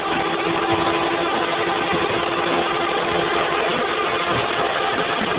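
A Perendev magnetic motor spins up toward high RPM, giving a steady, loud, dense mechanical whir and rumble with no pauses, close by and with no voices.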